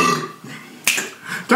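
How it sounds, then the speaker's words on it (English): A short burp after drinking Dr. Pepper, followed by sharp clicks and a second brief belch-like burst, close and loud with no one talking. "Dr. Pepper will make you burp"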